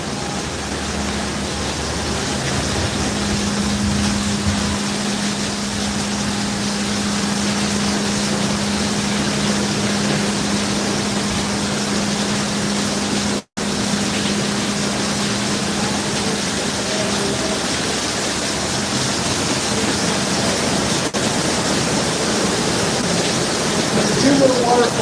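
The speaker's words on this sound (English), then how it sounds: "Nice and air conditioned and quiet in here, except for the sound of the water." Continuous rushing water from two small waterfalls fills an air-conditioned indoor space at Knott's Berry Farm with a steady, even roar, with a faint low hum running beneath for much of the time.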